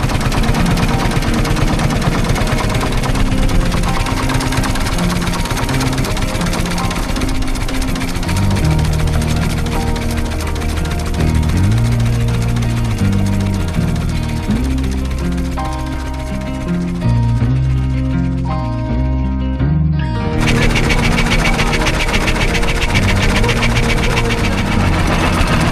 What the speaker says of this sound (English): the unmistakable sound of this International Titan as they started up for a drive round